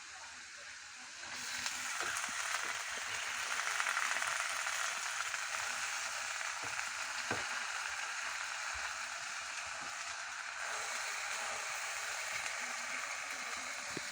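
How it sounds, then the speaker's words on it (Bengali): Washed spinach added to fried spice paste gives a soft, steady sizzle that swells and then holds at a hiss, with a few faint clicks. "মশলাটা ভালো করে কষিয়ে নিয়েছি, এখন শাকগুলো ছেড়ে দিব। ধুয়ে রাখা পালং শাক।"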